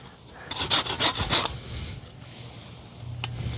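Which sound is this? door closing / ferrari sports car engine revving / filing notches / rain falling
filing notches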